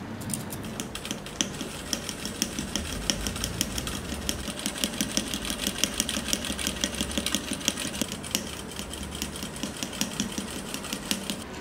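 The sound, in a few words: sewing machine stitching patchwork petals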